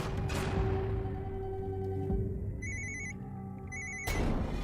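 A phone rings in short electronic bursts, two repeated trills over a low background hum, fairly quiet and close.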